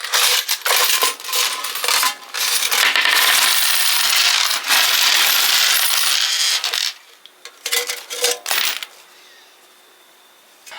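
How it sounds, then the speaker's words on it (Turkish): Coins pour out of a broken piggy bank in a dense, loud metallic jangle that rattles on in bursts, then thins to scattered clinks and a few last drops. "Ve şu an paramızı döküyoruz."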